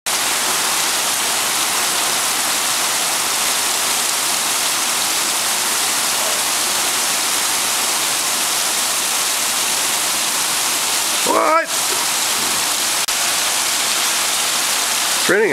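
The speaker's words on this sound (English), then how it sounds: "Raining, Al." Steady, heavy rain pours continuously as a dense hiss throughout, with a brief voice breaking in near the end.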